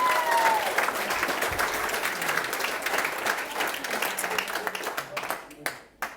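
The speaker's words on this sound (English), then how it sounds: "So how about another round of applause for the beautiful bride, Kirstie." Wedding guests applauding the bride at a reception, a loud, full burst of clapping from a crowd that carries on strongly, then thins into scattered individual claps and trails off near the end.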